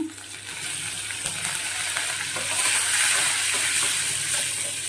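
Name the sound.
curry leaves frying in hot oil on high flame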